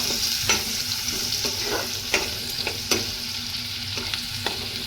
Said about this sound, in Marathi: आता याच्यामध्ये आपण कांदा टाकून घेऊया कांदा पण परतून घ्यायचा